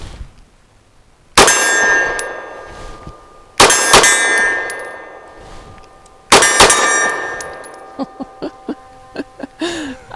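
Three loud handgun shots a few seconds apart, each followed by the bright ringing clang of struck steel targets at an outdoor range, then a quick string of softer metallic pings fading out.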